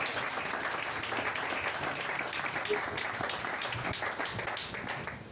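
A church congregation applauds to acclaim Jesus, with steady, dense clapping that fills the whole stretch and crowd voices mixed underneath.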